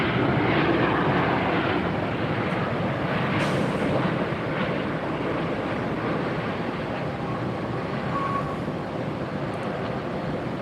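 Airplanes at Hobby Airport in Texas make a steady, loud, broadband engine roar with no talking. The roar fills the whole stretch and eases slightly toward the end.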